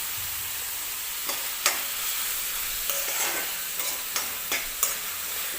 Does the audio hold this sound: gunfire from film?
no